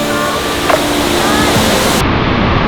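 A hidden Pacific Northwest waterfall roars with a steady, loud rush of water close by, a continuous wash with no break.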